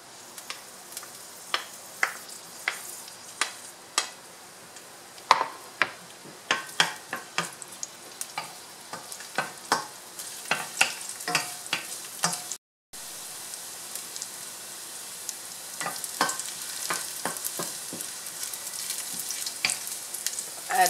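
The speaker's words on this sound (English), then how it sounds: "now we are going to add some garlic" Garlic sizzles and crackles in hot olive oil in a pan, with frequent sharp pops and spatters over a steady frying hiss, close and clear, briefly cut out midway before a denser sizzle resumes.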